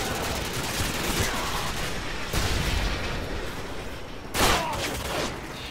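Dense gunfire in the Call of Duty video game shooting down equipment, a continuous roar of overlapping shots and blasts with sharper bursts around two and four seconds, loud throughout.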